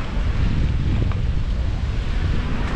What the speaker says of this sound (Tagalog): Ganda ng hampas ng alon oh